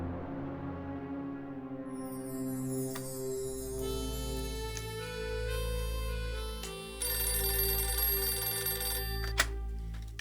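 A telephone rings with a repeating electronic ringtone, loud and near, cycling its tones steadily for about ten seconds with no talking.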